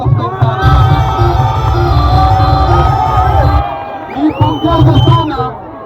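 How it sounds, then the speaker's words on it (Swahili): Large crowd cheering and shouting for champion team Mweni at the final of a youth Aweso Cup tournament, loud sustained roar with whoops and children's shouts, easing briefly before swelling again. "tuwapigie makofi sana"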